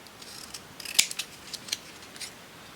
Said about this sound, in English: Just chop those little bits off. You don't need those. And then I'm just going to just snip that little end off.